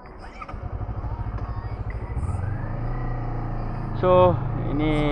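A Honda CBR250RR motorcycle is ridden, its engine pulsing rapidly then rising into a smoother, higher whine as it speeds up, loud and close, with a brief burst of wind or another passing vehicle near the end; a voice speaks briefly.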